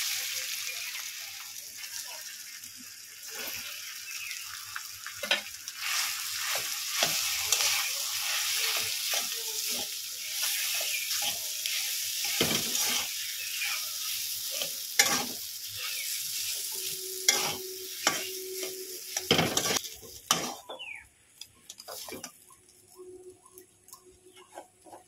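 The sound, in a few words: potatoes frying and being stirred in a pan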